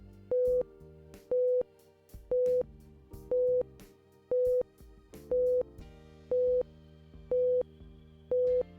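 A series of short, evenly spaced electronic beeps repeats about every second, clear and steady over a faint low background.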